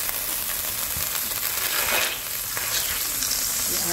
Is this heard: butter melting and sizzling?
yes